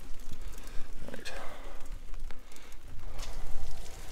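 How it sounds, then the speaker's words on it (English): Rain falls in a steady hiss on a wet morning outdoors where ducks are kept, with scattered louder splashes and bumps close by, constant throughout. "Yeah, it's raining everywhere."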